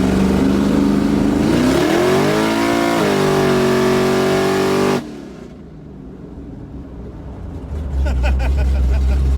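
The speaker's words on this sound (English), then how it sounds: "that roaring V8 from under the hood" A twin turbo Chevrolet Camaro ZL1 V8 roars loudly under hard acceleration, pitch climbing through the gears for about five seconds before cutting off abruptly to a quieter rumble, then swelling again with low engine drone at the end.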